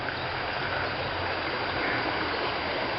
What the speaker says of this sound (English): This is the River Ammon